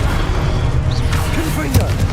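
A Confringo fire spell blasts in Hogwarts Legacy: a heavy, rumbling boom with sharp crackling hits over a continuous low game rumble, with voices faintly mixed in.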